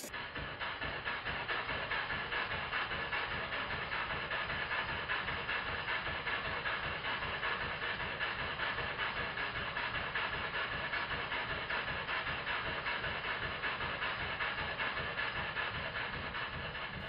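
A small model steam engine fitted with a governor runs with a continuous, moderately quiet hiss of steam and a fast, even mechanical chuffing rhythm, steady throughout with no talking.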